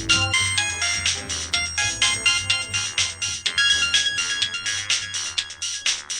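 A mobile phone ringing with an incoming call, a loud melodic ringtone repeating its bright, rhythmic pattern for several seconds with nothing else heard.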